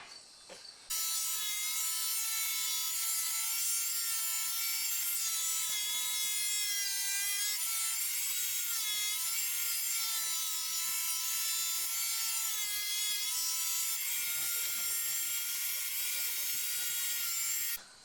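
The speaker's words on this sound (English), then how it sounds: "I can put them right through the planer" A thickness planer mills wood window trim boards in one continuous loud, steady machine whine that runs nearly the whole time, starting and stopping abruptly, with no talking.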